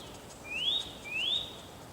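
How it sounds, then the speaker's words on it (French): A songbird in spring gives two clear rising whistled chirps about half a second apart, fairly close over a quiet outdoor background. "C'est le printemps, les oiseaux chantent."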